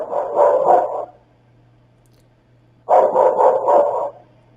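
A dog outside a house barks in two separate bursts of several quick barks each, with a pause between them, somewhat distant and echoey over a steady low hum.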